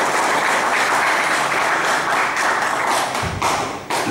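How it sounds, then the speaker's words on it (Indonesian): A seated audience at an Indonesian gathering applauds a guest, producing a thick continuous wash of clapping with a few louder thumps near the end. "tepuk tangan dulu."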